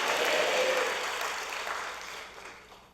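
A church congregation at an evening revival service claps together, a dense burst of applause that peaks early and then gradually fades over a few seconds.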